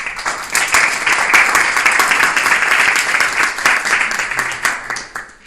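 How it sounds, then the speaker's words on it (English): A Toastmasters club audience bursts into dense applause as a speaker is called up. The clapping is loud and steady, then thins out toward the end. "Let's have a big round of applause."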